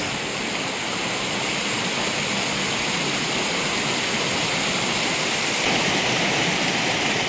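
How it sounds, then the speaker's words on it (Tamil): Floodwater overflowing a check dam on the Palar river makes a loud, continuous rushing roar, dense and unbroken throughout, with no voices. "பாலாற்றில் உள்ள தடுப்பணையில் தண்ணீர் நிரம்பி அதிக அளவில் செல்வதால்"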